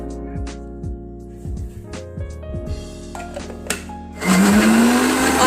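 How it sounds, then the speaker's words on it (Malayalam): A kitchen mixer grinder whirs loudly as it grinds peanuts for peanut butter, starting with a few short stop-start bursts before settling into a sustained, harsh motor roar near the end. "ഇനി ഇതൊന്ന് ആദ്യം ഒന്ന് മിക്സിയിലിട്ടിട്ട് തന്നെ ഒന്ന് പൊടിച്ചെടുക്കണേ."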